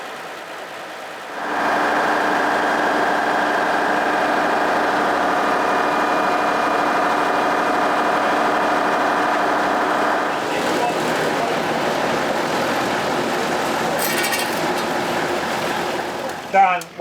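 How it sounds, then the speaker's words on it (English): A fuel pump on the ground-run Avro Vulcan bomber XM655 transferring fuel out of tank 7 into the other tanks, with a steady droning hum that changes pitch partway through and keeps running without a break. "We're pumping fuel out of tank 7 into the other remaining tanks"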